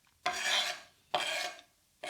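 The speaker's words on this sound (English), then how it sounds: "And just stir fry it for a couple of minutes." Onion and garlic stir-fried in a pan for a simple dahl make three separate scraping strokes, each a broad rasping sweep about half a second long, close and fairly quiet, with short pauses between and no talking.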